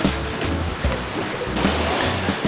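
Ocean surf rolls and washes onto the sand at Jomtien Beach, a steady broadband wash with swelling breaks, loud and close, with no voices.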